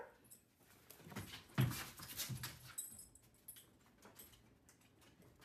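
Dogs panting and whimpering indoors before dawn, soft breathy pants and faint whines in uneven bursts, quiet and close, with no talking.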